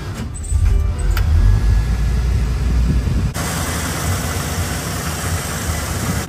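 A Chevrolet El Camino runs steadily after its fuel filter was replaced with an inline fuel pump, a close, even idle with a brief shift partway through and no talk over it.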